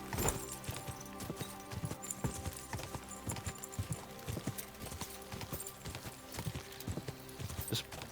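Horse hooves gallop in Kingdom Come: Deliverance 2 during a horse race, a rapid rhythmic drumming of beats that runs steadily throughout. A player talks quietly underneath.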